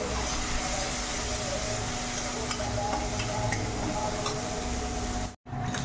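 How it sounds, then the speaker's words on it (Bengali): Kashmiri chili and turmeric spice paste frying in a pan, giving a continuous close sizzle with faint ticks and stirring noises, cut by a brief silence near the end. "কাশ্মীর লঙ্কা মশলাটাকে একটু কষিয়ে নেব"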